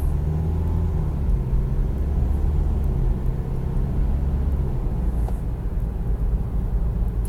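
Car accelerating during a stop-start test, a steady low engine rumble and road drone heard from inside the cabin, fairly loud and continuous without any clear rise or pause.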